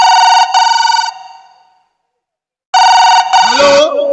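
Two bursts of a telephone ringing, each a double electronic trill, loud and close, separated by about a second of silence, with a voice breaking in at the tail of the second ring.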